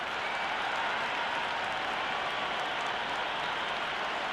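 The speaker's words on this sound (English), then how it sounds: "already the crowd making a hell of a racket" A cricket stadium crowd in Ranchi at an India versus South Africa match roars with cheering and applause, a dense, steady wall of sustained noise from many people filling the whole stretch without letup.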